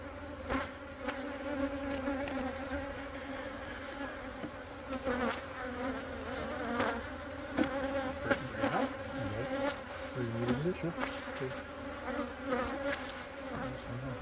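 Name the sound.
honey bees buzzing during beehive inspection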